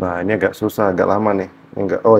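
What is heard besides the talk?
No everyday noise stands out behind the speech.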